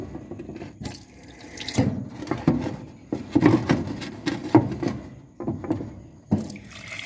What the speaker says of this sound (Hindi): दूसरी टूटी में भी ये देखें पानी है और ये गिलास भर गया